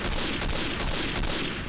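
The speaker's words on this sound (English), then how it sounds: "rifle grenade" Rifle grenade launched in Day of Defeat: Source amid a dense, loud burst of battlefield gunfire and blast noise that fills the whole short moment without pause.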